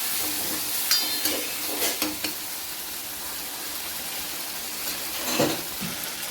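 Spice tempering with crushed garlic and ginger frying in oil, a steady sizzling hiss punctuated by occasional stir scrapes and a utensil clink, close, with no talk.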